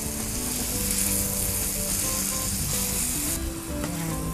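Food sautés in a pan with a loud, continuous sizzle and occasional scraping as it is stirred, close and steady, with no voices.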